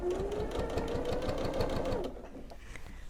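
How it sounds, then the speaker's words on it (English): A sewing machine stitches binding along the edge of a minky-backed quilt, its needle chattering in a fast, steady rhythm close by before slowing and stopping near the end, leaving quiet handling sounds. "So I'm just going to continue sewing all along the edge, making sure I tuck any threads in."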